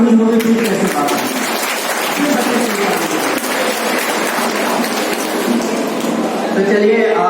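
An audience at a school annual function and award ceremony for children bursts into sustained, loud applause, dense clapping filling the hall from start to finish with crowd murmur mixed in.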